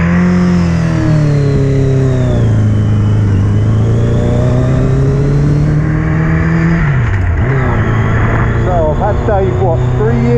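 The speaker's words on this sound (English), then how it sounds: "you didn't really hear me when the engine's going" A Yamaha Fazer 600 cafe-style motorcycle engine drones loudly and continuously while riding, its pitch sinking and rising with throttle changes under heavy wind rush.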